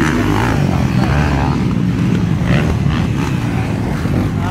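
Motorcycle engines roaring during a race, a loud, continuous, close droning rev that never lets up, with faint voices underneath.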